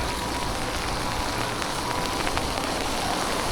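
Rain hisses steadily and broadband around a rider on a Yamaha Cross Core RC electric bicycle, a dense, continuous wash of droplets and road spray with no clear breaks.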